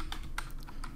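Quick taps on a computer keyboard, a handful of soft, close keystrokes in irregular rhythm with no talk.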